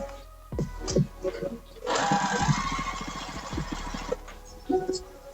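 Sewing machine running a steady stitch on the last seam of a Wildwood Wrap Dress, a two-second buzzing burst in the middle, with someone talking before and after it.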